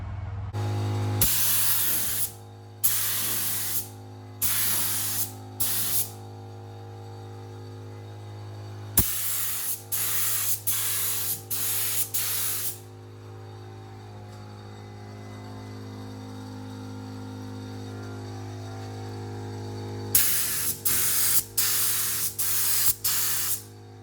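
A paint spray gun shoots paint onto a car during a home paint job. Several sharp bursts of hissing spray, some short and some longer, sound over a constant low compressor hum, with quieter gaps between passes.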